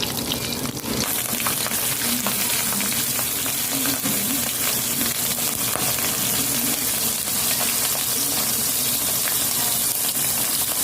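Dried fish (tuyo) frying in a pan, with a loud, steady, close sizzle and crackle that holds evenly throughout, with no voices.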